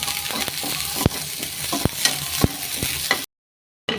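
Washed wheat dry-roasts in a pan with half a spoon of oil, a soft sizzle under repeated sharp scraping knocks of the stirring spoon, then a brief silence.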